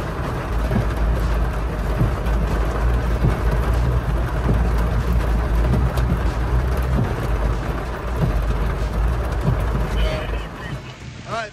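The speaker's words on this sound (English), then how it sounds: "Just in time, torrential rain." Torrential rain roars steadily with gusting wind at an outdoor Land Rover event, while people talk under the dense downpour.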